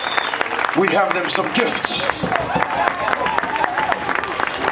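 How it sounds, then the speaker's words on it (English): Audience applause for warriors on stage at the Polynesian Cultural Center in Hawaii, a steady crackle of clapping with someone speaking loudly over it throughout. "Round of applause for our warriors."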